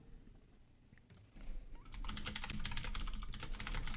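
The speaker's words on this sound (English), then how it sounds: "I can hear your keyboard." Rapid typing on a computer keyboard during a ham radio chat, faint keystrokes at first, then a dense steady run of clicks that grows louder and continues to the end over a low hum.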